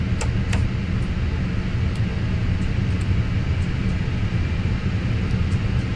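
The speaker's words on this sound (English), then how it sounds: "You can hear the jets roaring." The jet engines of an Airbus A320 in a flight simulator give a steady, loud broadband roar and hum that runs unchanged throughout with no speech over it.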